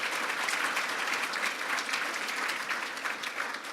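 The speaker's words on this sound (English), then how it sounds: "Absolutely a round of applause." Audience applause at the 23rd annual Turnaround Achievement Award ceremony in 2017, a steady dense wash of many hands clapping that holds evenly throughout without voices.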